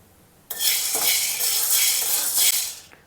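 Gram dry-roasting in a pan, a sudden rush of bright rattling and scraping as the grains are stirred, loud and close for about two seconds before stopping.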